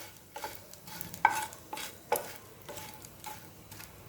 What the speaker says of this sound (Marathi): म्हणून हे फोडून घ्यायचा आणि मगच तळायचा मस्त असा तळला जातो